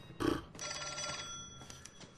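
An old-style telephone bell rings in the L.A. Noire video game, a short jangling burst after a thump, fairly close and with no talk.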